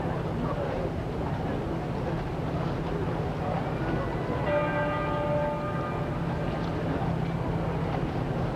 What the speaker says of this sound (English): The dinner bell pealing again.